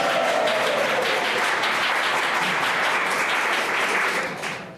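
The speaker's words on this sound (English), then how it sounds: "what I know will be a crowd-pleasing applause line" An audience applauds at a civic talk on democracy, a dense, steady wash of many hands clapping, close and full, tapering off at the very end.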